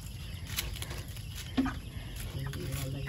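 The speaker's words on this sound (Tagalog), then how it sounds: "Gansa." A goose on a farm gives a few honking calls among other poultry sounds, close by and fairly loud, with no talk.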